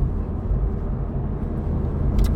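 Honda Civic Type R FL5, a front-wheel-drive turbocharged hot hatch, accelerating hard, heard as a steady close low engine drone with road rumble filling the whole stretch, no voices.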